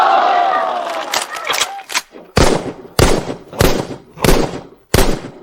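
Gunshots ring out at a shooting range competition: a handful of sharp, evenly spaced cracks, close and loud, following some brief commotion at the start.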